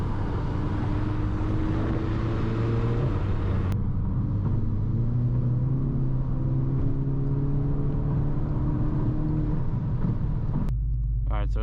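A car cruises in its drive mode, heard from inside as a steady, loud engine drone and road rumble whose pitch rises gradually through gear changes before the sound cuts abruptly near the end.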